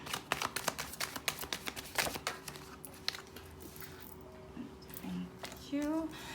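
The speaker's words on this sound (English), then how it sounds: "I'm going to first lay down all the cards and then we get to it." Tarot cards set down one after another on a table, a run of crisp close slaps and shuffles in a quick irregular rhythm that thins out toward the end, with faint background sounds.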